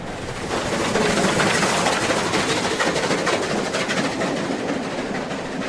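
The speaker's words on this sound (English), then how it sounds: "As time passes, a troop train hurries past the yard." A model troop train rumbles past close by with rhythmic clickety-clack from the wheels, steady and fairly loud throughout.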